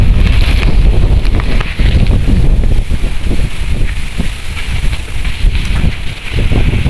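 Strong storm wind roars steadily across open rice fields, buffeting the microphone with loud, continuous gusting rumble and rustling throughout.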